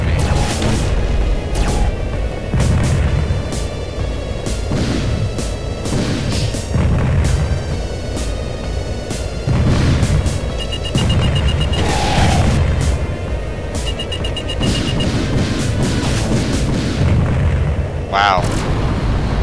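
Enemy fire strikes a damaged ship in the space combat game Wing Commander Prophecy, a steady run of loud booming impacts and blasts, dense and continuous, with talk over it.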